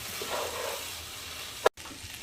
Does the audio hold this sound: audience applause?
no